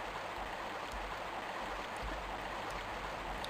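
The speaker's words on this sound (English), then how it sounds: "we actually start this level out over here, above a waterfall." Steady broadband rush of a waterfall in the Lost Valley level of the Tomb Raider video game, a constant even wash of falling water with no voices.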